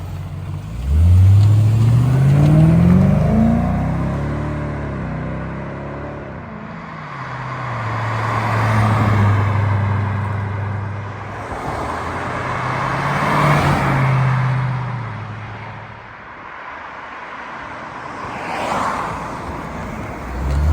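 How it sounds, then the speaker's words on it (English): A 2003 Ford Thunderbird convertible makes several drive-bys on a winding road, its engine swelling loudly as it approaches and passes, then fading, with quieter stretches between passes. "we'll take her through the S's a little bit, and we'll do a couple drive-bys"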